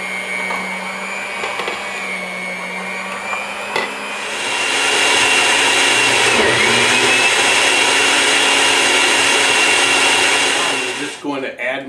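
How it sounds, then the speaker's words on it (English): A blender motor whirs steadily, rising to a louder, denser roar midway as it purees cooked apples, then cuts off with a few knocks at the end. "put it in a blender and make my puree"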